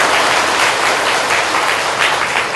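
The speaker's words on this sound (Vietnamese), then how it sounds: "cho tràng pháo tay tán dương." Dense, loud applause from a seated audience at a Buddhist dharma talk, steady unbroken clapping throughout with no speech over it.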